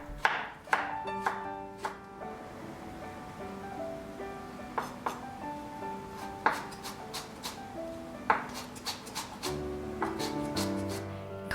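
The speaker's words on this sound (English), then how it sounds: "Chop 1 tablespoon worth of a carrot in fine pieces for macaroni salad" A knife chops a carrot into fine pieces on a cutting board for macaroni salad. The blows come as quiet, irregular taps with short pauses between them, and there is no talk.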